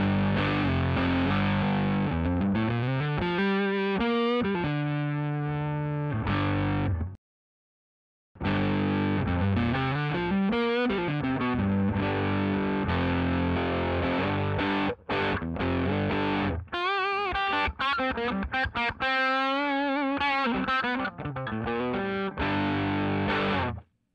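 An electric guitar runs through a BrownBox amp, giving a squishy, compressed distorted tone: chugging riffs and sliding bends played close and loud, broken by one short silent gap, with no voices.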